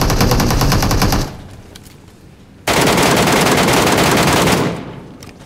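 Rapid bursts of MK14 rifle fire from a PUBG Mobile match, one sustained volley of about a second, a short pause, then a second longer burst of roughly two seconds, loud and close with no voices.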